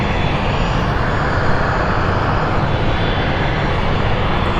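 An aircraft at London City Airport roars loudly and steadily nearby, a dense, unbroken engine wash that stays at full strength from start to finish.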